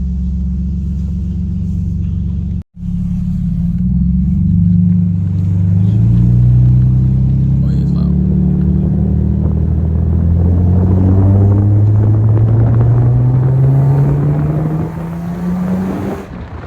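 A Lexus GS300 with catless headers, a single-exit exhaust and a Vibrant muffler revs up from a low idle into a deep, rising exhaust roar, loud and close, then settles back down.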